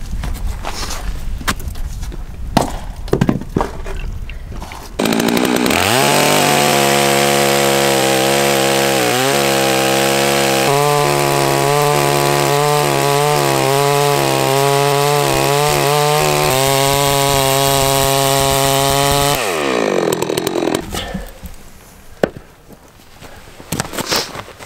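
A chainsaw bucks big wood rounds outdoors, its engine revving up and holding a loud, steady whine for about fifteen seconds with pitch dips as the chain bites, then dropping back to idle and quieter background.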